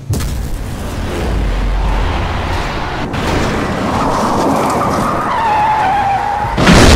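A car in GTA V accelerates hard and skids, with a loud, rough engine roar and tire noise running almost the whole time. A squeal near the end leads into a sharp burst.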